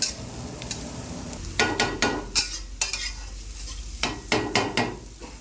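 Grated carrots frying in a pan for kulcha masala, with a soft sizzle underneath and a series of sharp, rhythmic spatula scrapes and knocks against the pan from close by, without talk.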